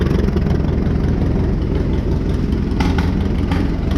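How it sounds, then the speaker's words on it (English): A 1938 F-20 tractor engine idles with a loud, steady low chugging rhythm, running close by on its own without speech. "We're just gonna wait for it to run the carburetor dry and shut itself off."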